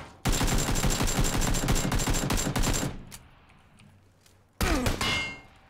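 Dense, rapid gunfire in the PUBG video game rattles loudly for nearly three seconds, falls quiet, then returns as a shorter burst that fades.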